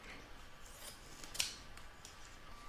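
Scissors snip through cutaway embroidery stabiliser in quiet, close, light cutting sounds with one sharper snip in the middle, heard alone without talk.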